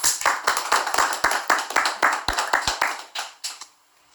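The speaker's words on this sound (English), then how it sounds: "Why do I clap 3 times?" One person claps hands in a quick, even series of sharp claps close by, more than a dozen in a row, growing fainter and sparser before stopping.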